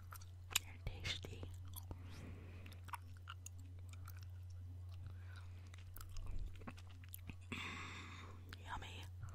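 Close, quiet gum chewing in ASMR style, with wet smacks and soft crunches over a low steady hum and faint whispering.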